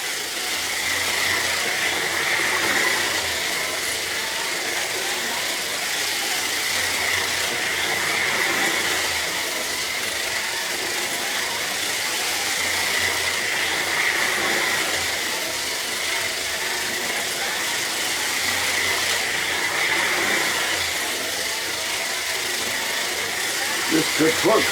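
Carrera electric slot cars, a Porsche and a Ferrari, race around a solid plastic track with a steady, loud whirring buzz of motors and wheels that rises and falls slightly as they lap.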